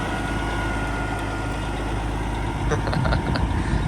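An old cabover truck idles with a steady, close diesel rumble, with a few brief clattering accents near the end and no talk.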